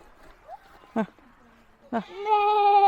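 A goat bleats loudly on a farm while being hand-fed a carrot, giving a sustained wavering bleat after a couple of short calls, close to the listener with brief voices nearby.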